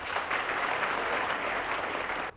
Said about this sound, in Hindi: जोरदार तालियां आप सभी की बजाएं